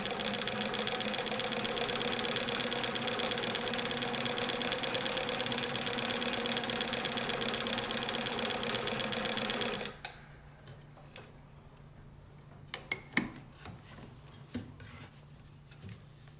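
A vintage Bernina 730 Record sewing machine runs fast on a decorative embroidery stitch driven by its internal cam, a steady mechanical whir for about ten seconds, then stops and leaves only quiet clicks and handling sounds.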